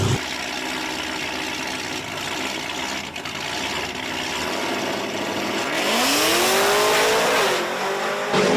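A Camaro and a single cab pickup truck launch side by side at a drag strip, engines roaring loudly and rising in pitch as they accelerate hard, with tire noise and a steady engine drone throughout.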